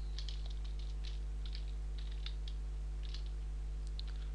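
Someone types form code on a computer keyboard, producing soft, scattered keystroke clicks in small bursts over a constant low electrical hum.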